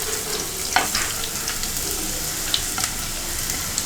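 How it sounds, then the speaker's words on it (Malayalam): Onions hit hot coconut oil in a pan and sizzle steadily and close, with a few sharp spits and pops from stirring scattered over the frying and no voices. "ഉള്ളി ഇട്ട് കൊടുക്കാം."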